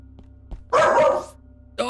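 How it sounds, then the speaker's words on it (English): A really loud dog barks in a short, harsh burst close by, then a second bark starts as the first fades, set amid co-op space game play in Starbound. "Yeah, really loud dog."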